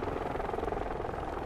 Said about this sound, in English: I don't care about the helicopter.